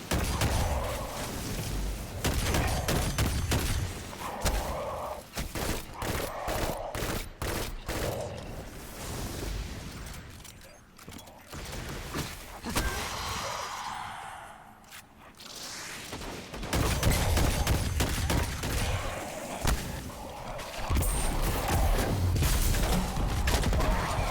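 Rapid gunfire crackles through a Destiny 2: Forsaken quest, with dense bursts of shots and booms, a quieter stretch midway, then heavy firing again, loud and close throughout.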